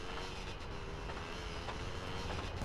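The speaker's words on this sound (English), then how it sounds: "And then there's that oncoming train." Oncoming train in the video game GTA San Andreas, a steady loud rumble of rolling rail cars filling the whole short stretch without talk.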